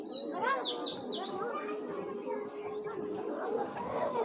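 Racing pigeons in a loft give soft cooing and chirping calls, several birds overlapping close by, with a voice faintly in the background.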